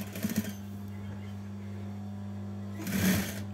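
A sewing machine stitches clothing while mending and patching garments, with short rapid bursts of stitching near the start and again near the end and a steady motor hum running between them, close and clear.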